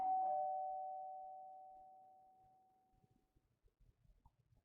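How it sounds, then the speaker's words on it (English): In the video game Z.A.T.O., a doorbell sounds once with a single clear chime that rings out and slowly fades over several seconds, followed by faint soft thumps in an otherwise quiet room. "our negotiator fixes her hair and rings the doorbell."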